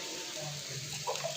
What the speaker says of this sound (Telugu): ఓకే, కొన్ని వాటర్ వేస్తా